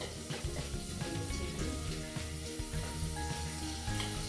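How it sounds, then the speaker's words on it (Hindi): Three or four finely chopped garlic cloves frying in hot oil inside a Futura pressure cooker for dal fry, giving a dense, continuous close-up sizzle and crackle with no talking. "इसके बाद लहसुन की कलियाँ 3 से 4 जो हमने बारीक कट कर ली थी उसे डाल देंगे"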